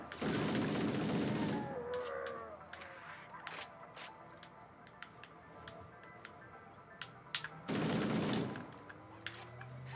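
Gunfire in Halo: Combat Evolved cooperative play: a dense burst of rapid automatic shots opens, then scattered single shots, and a second heavy automatic burst erupts near the end.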